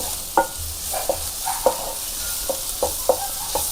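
Egg fried rice seasoned with coriander powder and chicken masala powder is stirred in a hot pan, with a steady sizzle under repeated sharp scrapes and clacks of the spatula at an uneven pace, close and alone.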